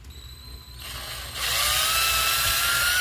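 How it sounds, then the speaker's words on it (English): A power drill bores holes through a homemade radio knob, the motor whine starting thin then rising into a steady, louder grinding as the bit bites in, close and alone. "going to drill these holes all the way through to the hole in the middle"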